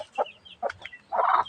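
Hen clucking close by in a few short soft calls, ending in a longer, louder cluck, with no talk over it.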